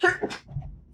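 One sharp, loud sneeze at close range, bursting out at the start and followed by a quieter breathy tail, with no talk.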